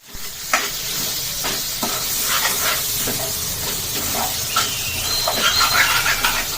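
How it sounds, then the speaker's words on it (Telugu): Bitter gourd fry being stirred in a pan with coconut powder and coriander powder, giving a steady close sizzle with scraping stir strokes throughout. "ఇప్పుడు మంచిగా ఒక రెండు స్పూన్ల కొబ్బరి పొడి స్పూన్ ధనియాల పొడి ఒక కొబ్బరి పొడి ధనియాల పొడి తర్వాత కొంచెం కొత్తిమీర వేసేసుకొని కలిపేసుకోవడమే"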